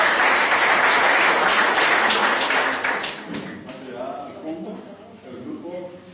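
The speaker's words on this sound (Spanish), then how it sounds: "Un aplauso" An audience breaks into strong applause at the end of a talk on water and the development crisis. It is loud for about three seconds, then fades as a voice starts speaking over the dying claps.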